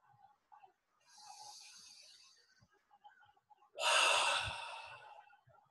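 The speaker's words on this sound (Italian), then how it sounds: "Inspiro, espiro. Pieni polmoni." A person takes deep breaths with full lungs, a soft long breath followed by a louder, fuller one that fades slowly, close and alone.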